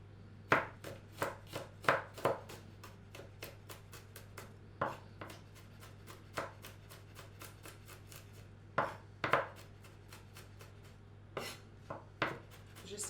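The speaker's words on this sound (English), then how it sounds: "I'd start roughly chopping it," A knife roughly chops garlic on a cutting board, with crisp, irregular taps and quick runs of strokes across a steady low hum, and no one talking.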